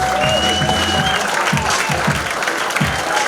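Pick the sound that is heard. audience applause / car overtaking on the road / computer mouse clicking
audience applause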